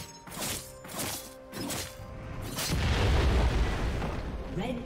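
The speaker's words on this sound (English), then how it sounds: "Red team's inhibitor has been destroyed" An inhibitor blowing up in League of Legends, with several deep booming hits followed by a sustained rumbling crash of explosion sounds, loud and close amid game effects.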